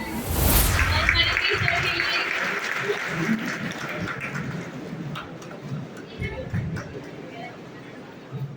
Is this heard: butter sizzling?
no